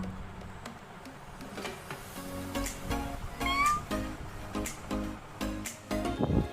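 A cat meows several times close by in short, fairly soft calls spread across a few seconds, while a woman coaxes it in a quiet indoor setting.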